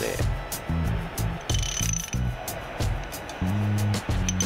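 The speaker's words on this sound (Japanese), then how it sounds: "このかしめの時だけはね、えー、ソケットレンチを使った方がいいと思います" A socket wrench crimping a rivet pin on a Yamaha Tricker motorcycle chain, sounding as loud, close bursts of rapid ratcheting clicks in short repeated strokes with brief pauses between.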